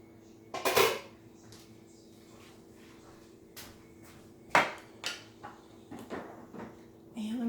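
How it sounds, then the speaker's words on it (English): A frying pan is lifted and set down on a kitchen stove while an Italian layered bake is being made, giving a sharp metallic clatter near the start and another knock midway, with lighter clinks in between. "And I need to get my pan over here"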